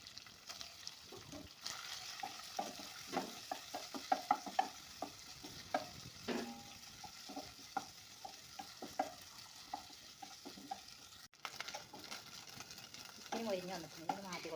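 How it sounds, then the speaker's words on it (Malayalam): Precooked chicken fries in a pan for chapati shawarma, with a quiet, continuous sizzle broken by repeated scraping and stirring strokes throughout. "ചിക്കൻ വറുത്തെടുക്കാൻ പോവാണ് ആദ്യം."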